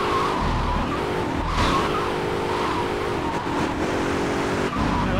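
Sentinel car driving and skidding in GTA Vice City, a loud close engine with repeated tire squeals and rising revs as it slides through turns, no talk.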